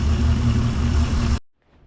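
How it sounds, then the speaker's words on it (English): A Nomad car engine fires up for the first time, running loud, close and steady at idle for over a second before cutting off abruptly into near silence. "Engine sounds good."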